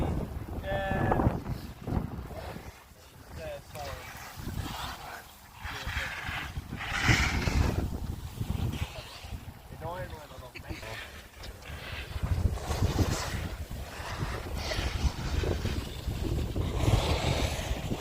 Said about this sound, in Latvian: Augšu pa puskalnā baigi plūš vējš.